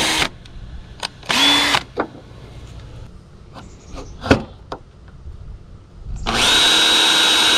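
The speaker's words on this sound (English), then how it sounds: "I'll drill through where I marked my holes" A power drill punching holes through a boat trailer guide post, with short whirring bursts at first, then scattered clanks and knocks, before a long steady whine of drilling close up.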